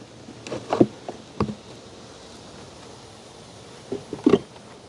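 A lone honey bee buzzes in short bursts around opened hive boxes during a honey harvest, passing close a few times with quiet gaps between.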